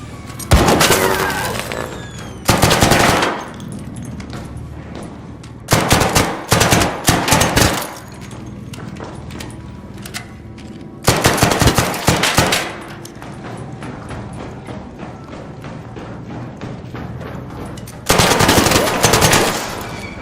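Bursts of automatic gunfire from the video game Arc Raiders, several loud rapid volleys each lasting about a second, separated by quieter stretches of background game ambience.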